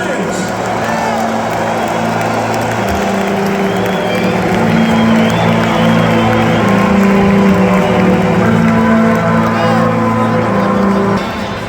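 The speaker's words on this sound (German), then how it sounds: "Und jetzt begrüßen wir mal die österreichische Nationalmannschaft mit einem kräftigen Applaus." A stadium crowd in Vienna's Happel stadium roars, cheers and applauds as the Austrian national football team is welcomed before a match against Turkey. The loud, sustained crowd noise carries on under an announcer's voice over the public address.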